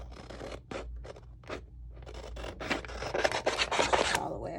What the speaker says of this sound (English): get my scissors and cut this like I did before